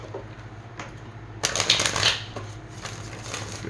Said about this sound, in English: Get 3 shuffles on this.